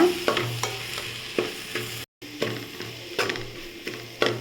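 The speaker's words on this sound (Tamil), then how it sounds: "மல்லித்தூள் தனி மிளகாய்த்தூள் இதெல்லாம் சேர்த்து நல்லா வதக்கிக்கோங்க" Coriander powder and chili powder sauté in a pan for beef pepper gravy, with nearby scraping stirs and a soft sizzle under them, one brief gap of silence midway.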